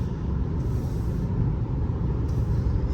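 A 2024 Mercedes-Benz C300 cruising in Sport Plus mode on an open road, with a steady low engine and road rumble heard from inside the cabin, continuous and fairly loud, with no talking.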